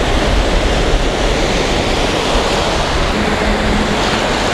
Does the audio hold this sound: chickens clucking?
no